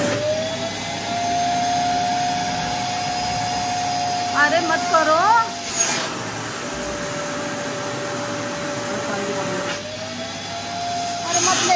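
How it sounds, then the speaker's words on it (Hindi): A Karcher wet and dry vacuum cleaner drones steadily and loudly throughout, with brief bursts of speech over the motor noise near the middle. "सभी वैक्यूम क्लीनर की इतनी आवाज आती होगी"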